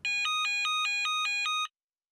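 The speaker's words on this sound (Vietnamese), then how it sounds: "Ờ, điện thoại cúp rồi hay sao đấy? Có thấy ai nói gì đâu. Toàn tiếng tít tít thôi mà." A telephone busy tone after the caller hangs up sounds as seven evenly spaced, clear electronic beeps in a quick steady rhythm, then silence.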